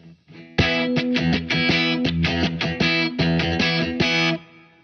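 Distorted electric guitar runs through a compressor pedal with exaggerated settings. The choppy chord strums come out evenly loud and squashed, in a short burst with no talking.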